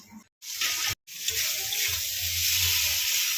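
Water pours into a hot cooking pan of jackfruit and prawn curry, a close steady rushing splash with a soft sizzle, broken by two short silent gaps near the start.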